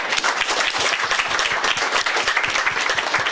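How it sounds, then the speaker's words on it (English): Steady audience applause fills the room at a civic panel on New York City planning, dense and continuous clapping from many hands, close and loud throughout with no talk over it. "Clap, clap."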